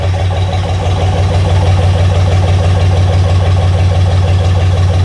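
A 1963 Jeep CJ5 engine idles loudly and close by, with a steady, rhythmic low rumble and even pulsing throughout and no speech.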